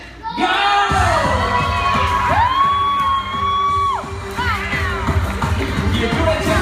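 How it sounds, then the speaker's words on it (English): A game show audience cheers on contestants with sustained loud whoops, shouts and crowd noise over upbeat music with horn-like melodic lines, and a voice calls out near the end. "Audience, you make sure you cheer them on"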